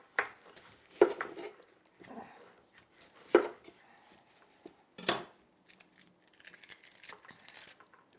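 Knife slicing an onion into quarter-inch slices on a cutting board: a handful of crisp, separate chops spaced about a second or two apart, close and fairly quiet, with lighter scraping between them.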